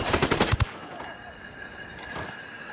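Gunfire in the Ghost Recon Wildlands video game, with a quick burst of sharp shots in rapid succession followed by a fading echo and a fainter later report; brief voices are present.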